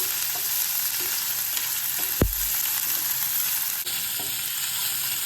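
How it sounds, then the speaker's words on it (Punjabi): Onions frying in oil on a gas stove, a steady broadband sizzle running throughout with one sharp clatter or thump midway, no talking. "ਨਾਲ ਹੀ ਐਡ ਕਰ ਦਾਂਗੇ ਆਪਾਂ ਪਿਆਜ਼ ਗੈਸ ਤੇ ਆਪਾਂ ਇਹਨਾਂ ਨੂੰ ਹੁਣ 2 ਮਿੰਟ ਭੁੰਨ ਲਾਂਗੇ"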